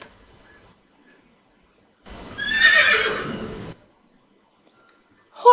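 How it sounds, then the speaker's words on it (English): A horse gives one loud, drawn-out whinny in the middle of an otherwise near-silent stretch, lasting about a second and a half before fading. "Horse."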